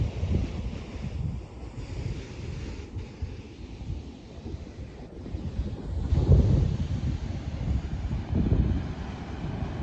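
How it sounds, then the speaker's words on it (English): Steady rumble of Pacific surf on a beach outside Santa Cruz, California, with waves swelling and breaking, mixed with heavy wind buffeting the microphone; no voices. "Crashing waves."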